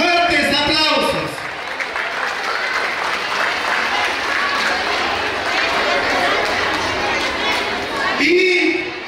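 A crowd claps loudly and continuously for a preschool teacher at a school graduation ceremony, dense sustained applause with a voice speaking briefly at the start and end.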